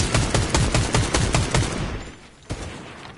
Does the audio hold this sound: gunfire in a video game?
yes